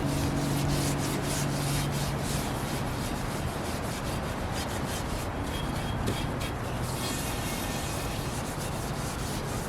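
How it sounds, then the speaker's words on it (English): A big rusty cast iron skillet is scrubbed in a steady, close, continuous gritty rubbing with a fast back-and-forth rhythm that runs for the whole stretch, with no talking. "you can already see that rust is just rubbing right off"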